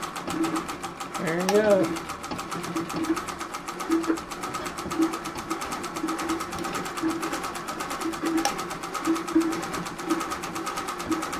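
A Singer 201 treadle sewing machine stitches with a steady, close mechanical clatter and rhythmic ticking that runs throughout, while a person speaks briefly near the start.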